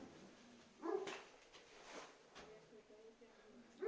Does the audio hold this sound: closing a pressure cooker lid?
no